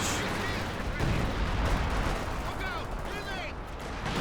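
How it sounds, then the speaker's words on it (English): Artillery barrage in Company of Heroes 2 falling on a KV-2 heavy tank, a continuous rumble of blasts and shellfire behind game effects, with a voice talking over it. "Sector artillery raining on in on top of the KV2."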